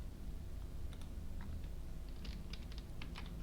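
Computer keyboard typing during coding of HTML and CSS comments: sparse, light key clicks in short irregular bursts, close and quiet over a low steady room hum.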